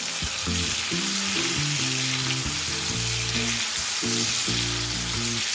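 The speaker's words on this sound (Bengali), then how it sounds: "এবার গ্যাসের ফ্লেমটা একদম লো করে দিয়ে টমেটোটাকে একটুখানি কষে নেব" Chopped tomato with salt frying in a pan over a flame for a Bengali bata fish curry: a loud, continuous hissing sizzle that stays even throughout, with a low tonal melody running underneath.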